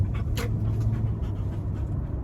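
A dog panting inside a car, quick rhythmic breaths close by over a steady low road rumble, with no talking.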